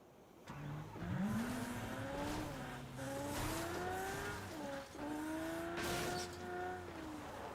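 A car in a video game drives with its engine revving and rising and falling in pitch, while tires squeal in long, wavering screeches several times over a few seconds.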